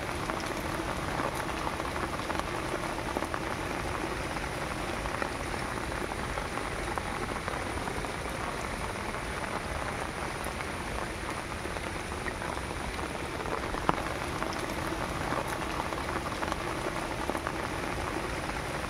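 Rainwater running down as a small stream from hilly ground beside a village house during the rainy season, a continuous dense rushing and pattering that stays even and close throughout, with no voices.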